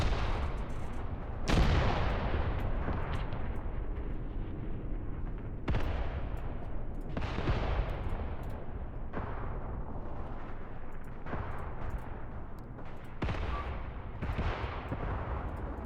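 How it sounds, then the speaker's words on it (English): Heavy 15-centimeter artillery barrage in the war game Graviteam Tactics, a series of loud booming impacts every second or two, each followed by a long rumbling decay, continuous and dense with no talking. "This 15-centimeter barrage is coming to a close."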